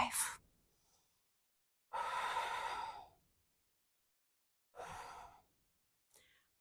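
Deep breaths during a yoga stretch, holding a bridge pose: a short exhale, then two long, airy breaths separated by silence, and a brief final puff, close and fairly soft.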